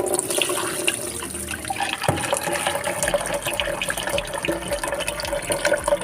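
Sago pearls being rinsed in water for ginataang saging, a steady wash of running, splashing water filling and swirling in a container, continuous and fairly loud throughout.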